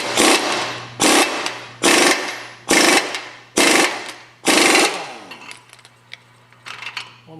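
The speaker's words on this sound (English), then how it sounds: "What we do, we torque this to tight with the impact" A 1/2 inch drive impact wrench tightening a transmission nut in five loud, close bursts of rapid hammering, each about half a second long with short pauses between them, followed by quieter clinks and handling noises.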